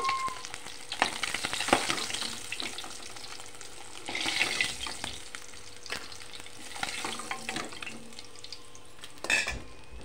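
Black cumin (nigella) seeds crackle and spit in hot oil in a pan, with a spoon scraping and stirring in bursts; the frying noise stays close, no one talks, and a louder clatter comes near the end.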